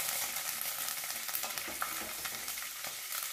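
Green chillies frying in hot oil with lentils and curry leaves, a close, dense crackling sizzle with scraping stir strokes and small pops scattered throughout, no voices.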